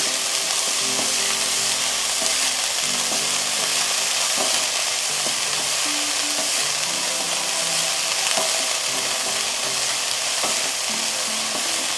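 Chicken pieces fry steadily in hot oil in a pan for murtabak Maggie, a continuous close crackling sizzle with occasional clinks of a utensil, no voices.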